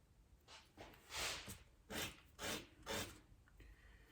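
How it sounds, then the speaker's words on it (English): A wooden toothpick tip is rubbed against sandpaper in about five short rasping strokes with brief pauses between them, quiet and close. "Finish this up on the sandpaper. Now have a new end on our toothpick here."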